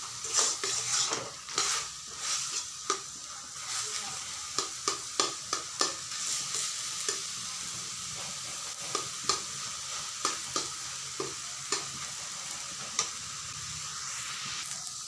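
Taro and prawns are stir-fried in a pan until the water dries, with a steady soft sizzle broken by repeated sharp scrapes and clacks of a spatula against the pan, close and without talk.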